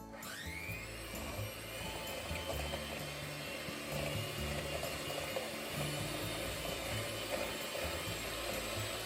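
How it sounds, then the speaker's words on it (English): A mixer whirs steadily and fairly quietly while beating eggs and sugar until airy and foamy, a continuous mechanical hum with a faint rattling texture and no talk. "Three eggs and sugar. Just beat it until it's airy and foamy."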